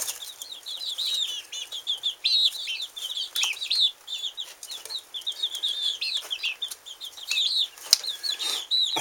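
Young roosters, cockerels, scuffle playfully with bursts of wing flapping amid steady high chirps and clucks from the flock, moderately close and continuous without speech.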